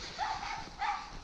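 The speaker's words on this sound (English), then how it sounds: "bloody dogs" Two short, close dog barks or yips, one after the other, near a farm baler, loud and alone with no talk over them.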